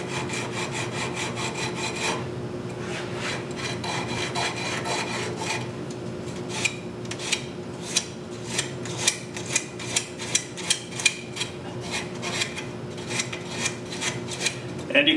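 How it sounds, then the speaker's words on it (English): Repeated rasping strokes of 80-grit sandpaper rubbing wood by hand, close by, starting as continuous scrubbing and settling into a steady back-and-forth rhythm. "And there's a lot of hand sanding here to make this look really nice."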